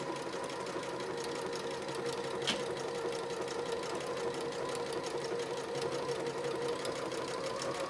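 A Janome 3160 QDC sewing machine, a class 15 bobbin model, stitches at steady moderate speed, its motor a continuous mechanical hum with a fine rapid needle clatter throughout and one brief sharper tick partway through.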